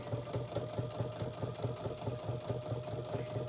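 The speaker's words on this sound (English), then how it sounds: "I've sewed one side and I'm going to sew the other one." Sewing machine stitching the seam of a kitchen towel, a steady rapid mechanical rattle with a fast regular pulse, close and even throughout with no talking.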